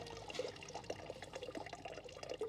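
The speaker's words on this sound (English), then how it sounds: "And rinse them." Clothes are rinsed in water, with soft sloshing, splashing and trickling close by at low volume.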